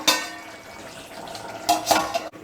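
Metal lid set back onto a simmering pot of catfish and bamboo shoot curry, a quick clatter at the start followed by two ringing clanks a moment apart, close and clear.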